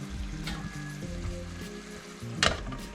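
Food cooking in a pan gives a steady close sizzle with a short utensil scrape and crackle near the end, under low background music.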